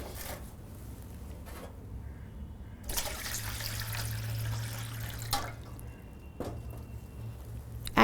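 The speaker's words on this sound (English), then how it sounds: "now we have to mix the hot water and the cold water" Hot and cold water are mixed in a basin for a bed bath, giving a quiet trickle and splashing with intermittent pours and a low steady hum underneath.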